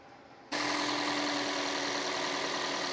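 A 2004-2009 Toyota Prius engine fires up abruptly after a throttle body cleaning, then settles into a steady, loud idle hum that holds evenly to the end.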